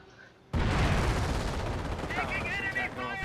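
Heavy rifle and machine-gun fire from the World War II strategy game Company of Heroes, in an Operation Market Garden 3v3 battle: a sudden loud burst after a quiet moment, then dense sustained volleys, with a voice briefly audible toward the end.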